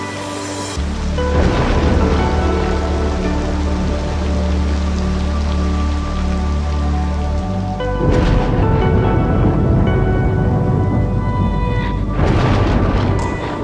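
Rumbling thunder from a distant lightning strike rolls under steady rain in the city-building game Cities: Skylines II, a low sustained boom with a second swell of crackling rumble midway through and another near the end.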